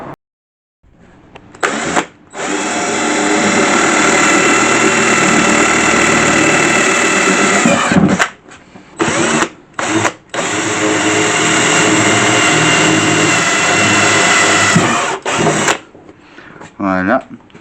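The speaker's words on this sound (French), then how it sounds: "je pense que tu vas pouvoir le découper à la scie sauteuse" A jigsaw cuts through a panel being modified for a custom leather trim job, running in long loud buzzing bursts with several brief pauses between strokes.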